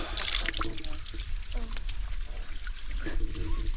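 Water spilling from a hat dipped in a Lake District mountain tarn and trickling over a head outdoors, a light close splashing dribble over steady wind-like background hiss.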